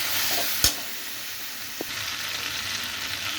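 A spice mixture with parwal, potato and prawns is stirred and fried in a pan, producing a dense, steady sizzle up close, with a sharp utensil knock early on and a lighter tap later.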